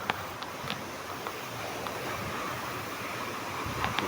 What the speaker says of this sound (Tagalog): Andito na ako sa pinaka-main na waterfalls.